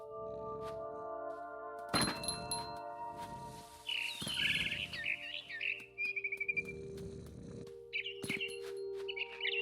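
A barn swallow chirps in the video game What Remains of Edith Finch: sharp, high twittering bursts and short trills come in scattered clusters over a faint, steady tonal background, fairly close.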